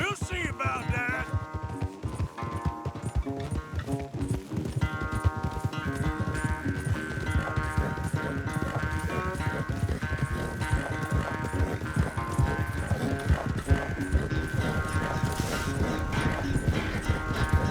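Hoofbeats of horses galloping in a Red Dead Redemption 2 race, a loud continuous drumming under full orchestral game music, with snorts mixed in.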